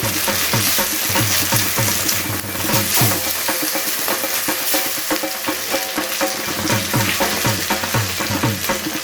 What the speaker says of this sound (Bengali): এটাকে দিয়ে পেঁয়াজের সাথে খুব ভালো করে কষিয়ে নিতে হবে।